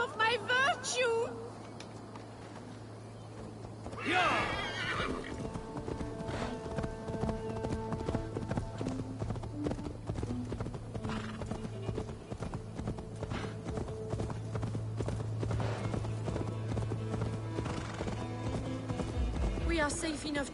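Horse hooves clip-clop steadily through a medieval scene in Assassin's Creed Valhalla, with a brief neigh, loud and close beneath game music and ongoing character talk.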